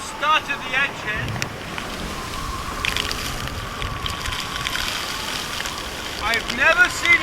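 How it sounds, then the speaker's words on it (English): A boat engine churns in a storm under gusting wind and splashing water, loud and rough throughout, with a voice breaking in briefly. "I started the engine."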